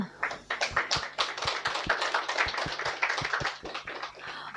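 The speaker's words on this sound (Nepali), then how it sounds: "एकचोटि ताली बजाइदिउँ न त।" An audience at an engagement ceremony claps together in a fast, fairly even rhythm, many hands blending into a close, sustained patter that carries through the whole stretch without speech.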